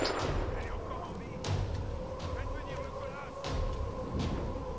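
Repeated gunfire from a weapon in the Tomb Raider video game: several loud thumping shots spaced across the clip over a steady game background, with a voice talking along at times.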